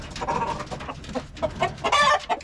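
Chocolate and other colored Wyandotte chickens cluck and chatter close by in a quick run of short, overlapping calls.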